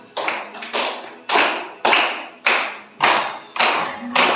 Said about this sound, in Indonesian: Yuk tepuk tangannya.